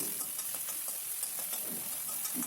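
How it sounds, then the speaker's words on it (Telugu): Green chillies, curry leaves, ginger and garlic fry in a spoonful of oil for pasta, producing a constant close hiss with faint irregular crackles and no voices. "కొద్దిగా అల్లం వెల్లుల్లి వేసి పచ్చిపోయేదాకా వేయించుకోవాలండి"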